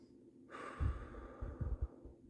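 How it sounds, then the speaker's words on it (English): A slow, deep breath drawn in and let out during a calm mindfulness practice, soft and close with a gentle airy hiss and no talking. "taking a big deep breath now"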